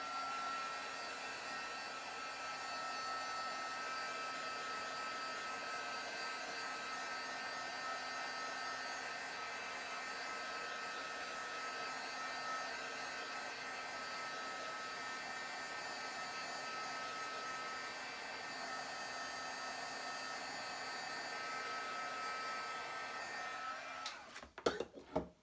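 A hair dryer runs steadily for a long stretch, a close, even whirring blow with a constant airy hiss, then a few clattering handling knocks as it stops.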